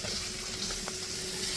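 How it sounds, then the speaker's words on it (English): Blackened redfish sizzling hard in a hot pan as it is flipped with a spatula, a steady loud frying hiss with a couple of brief scraping clicks midway. "Do you think I can flip this with the spatula?"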